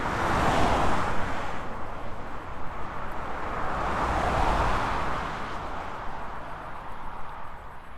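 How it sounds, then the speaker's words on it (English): Two cars pass on a road one after the other, each a broad tire and engine swell that rises and fades, over a constant hiss of roadway noise. "that very much sounds like 2 cars"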